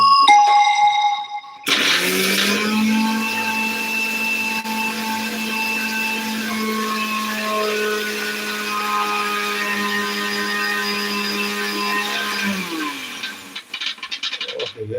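A mixer grinder grinding masala starts with a sudden loud whir and runs steadily for about ten seconds, then winds down and stops with a few clatters.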